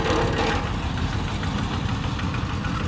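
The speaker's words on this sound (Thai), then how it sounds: "ใช้รถไถเดินตามมาแล้วก็ต่อพวงเขากับอันเครื่องตัวนี้แล้วก็หมุนนะฮะ" Walk-behind tractor engine belted to a crop grinder in a Lao village, a loud, close, steady diesel chug with a knocking rumble that runs evenly throughout.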